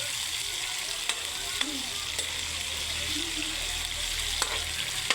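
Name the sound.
chicken feet and liver cooking in a pan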